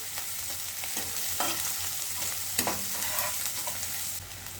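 Chopped onion and cumin seeds frying in a pan, a steady loud sizzle with a few stirring scrapes and clinks, no talking.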